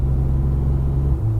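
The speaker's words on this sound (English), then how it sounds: "GT3 pitting in. GT3 pitting in." A Porsche GT3 pulls into the pits on a race circuit, its engine giving a loud, close, steady low rumble with a slight drop in pitch near the end.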